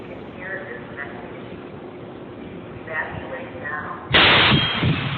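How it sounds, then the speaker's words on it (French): In news footage, a bomb goes off after police evacuate the area: a muffled, rumbling background breaks into a single sudden, loud blast near the end that roars on briefly. "la bombe explose."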